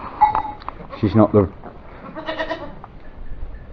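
Goat kids bleating on a farm in Portugal, several close, loud bleats in a short burst and then softer calls, while a person talks nearby.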